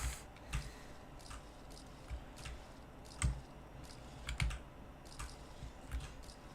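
Keystrokes on a computer keyboard tap out in irregular bursts, soft and close, with a few sharper clicks standing out over quiet background hiss.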